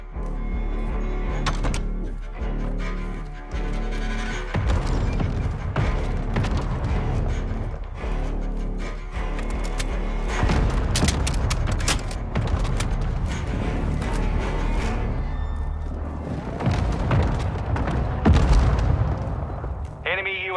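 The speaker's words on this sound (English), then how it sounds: "Our mortar strike is inbound." Mortar strike explosions in Call of Duty: Modern Warfare II, repeated heavy booms and crackling gunfire layered through a busy battle soundscape, with voices speaking over the action.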